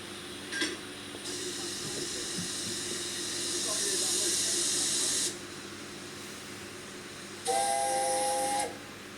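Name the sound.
steam locomotive whistle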